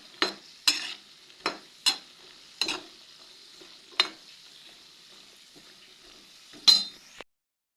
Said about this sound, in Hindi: पहले काजू को ही भूनूंगी